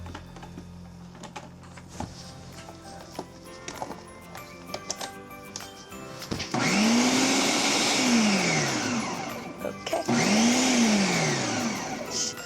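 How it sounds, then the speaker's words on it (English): A loud electric food mixer mixing dry ingredients whirs steadily for several seconds, pauses briefly, then starts up again, with a rising and falling motor pitch. "And this will be mixing our dry ingredients together."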